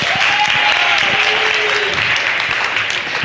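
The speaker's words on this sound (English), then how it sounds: "clap for a poet with us right now" Audience applause for a poet at a spoken-word event, a dense, steady wash of clapping that fills the room and holds loud and even throughout.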